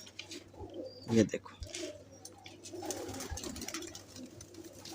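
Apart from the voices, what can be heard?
teddy pigeons cooing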